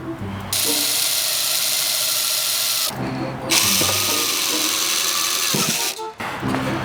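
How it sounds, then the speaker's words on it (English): A power drill whines loudly and steadily while drilling a hole for over-fenders on a BMW E36 drift car, stopping briefly twice and then spinning up again, close to the listener with no talk over it. "So I gotta drill that hole again."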